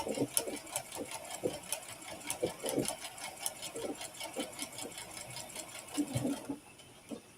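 A sewing machine stitches around the final corner of a fabric coaster, running in short bursts of fast rhythmic needle clatter with brief stops. Voices talk over it.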